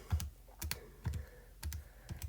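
Keys on a computer keyboard are struck in quick little bursts of two or three clicks, close and fairly crisp, with short pauses between the groups.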